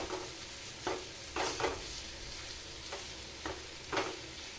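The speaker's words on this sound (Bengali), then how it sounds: "এই যে গুঁড়ো করছি খুন্তি দিয়ে গুঁড়ো করলাম" A spatula scrapes and stirs egg and potato curry in a sizzling pan, with several distinct scraping strokes at irregular intervals over a continuous close frying hiss.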